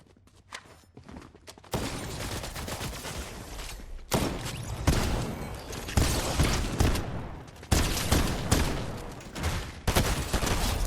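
Rapid bursts of gunfire in Fortnite Zero Build, Chapter 5 Season 1, loud and dense, with clustered volleys and single cracks during a close firefight, preceded by quieter footsteps at the start.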